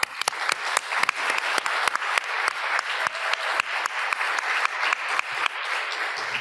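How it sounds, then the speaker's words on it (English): An event audience at a closing plenary session gives a big round of applause, a sustained wash of many hands clapping with a few sharp, louder claps standing out close by. "let's give a really big round of applause"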